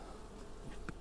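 Honey bees from a nucleus colony hum in a continuous faint drone at an open hive, with the frames full of capped brood.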